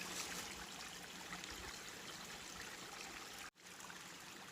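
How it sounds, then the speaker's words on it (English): A cold, clear stream in Michigan's Upper Peninsula flows steadily, a soft continuous wash of water with a brief dropout near the end and no talk. "Whenever I come across cold streams like this"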